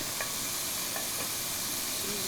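Chopped onion dropped into a hot pan for frying beans sets off a steady close sizzle and hiss, with a few faint stirring scrapes through the 2-second stretch and no talking.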